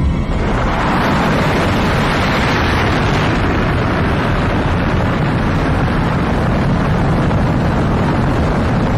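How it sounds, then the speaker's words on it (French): Rocket launch in the film Interstellar as the main engine and boosters ignite, a dense, loud, continuous roaring rumble that fills everything and holds steady without pause. "Allumage moteur principal. 4. 3. 2. 1. Mise à feu des boosters"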